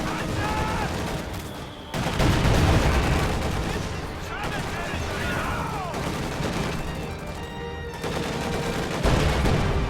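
A World War II strategy game battle with grenadiers, an IS-2 tank, Thompson paratroopers, artillery and Panzerwerfer rockets, where gunfire and explosions rumble in a continuous dense barrage under a commentator's voice.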